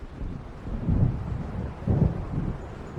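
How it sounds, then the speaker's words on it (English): Approaching thunderstorm in the video game Alan Wake Remastered, heard as low rolling thunder rumbles that swell twice over steady wind-like noise, with no speech. "It seems there's a storm coming."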